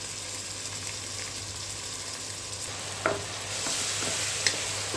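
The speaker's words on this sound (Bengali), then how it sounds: "মশলাটা একটু ভাজা হয়ে গিয়েছে" Spice paste with ginger-garlic paste and whole garam masala frying in a pan, giving a steady soft sizzle with occasional stirring scrapes and small clinks, no voices.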